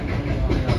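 A Vande Bharat Express train running through a ghat section toward Nashik gives a steady, close rumble with no distinct clacks or voices.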